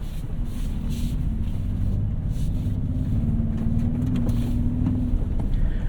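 A 2023 Toyota Sequoia TRD Pro with its iForce Max powertrain crawling off-road through slippery mud: a steady, deep engine drone with a faint rising note, heard from inside the cabin, with no talk.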